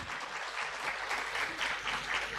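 Applause from a conference audience after a presentation at an international student conference, a steady, moderately soft patter of many hands clapping throughout with no talk.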